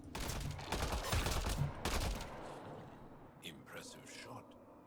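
Gunfire in the video game Mass Effect Andromeda, a burst of loud rattling shots for about two seconds that fades into quieter scattered reports, with voices talking over it.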